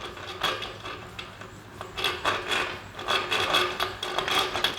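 Hand filing shaves wood from the inside of a round wooden ring, a close rasping scrape repeated in steady strokes that grow louder and more regular in the second half.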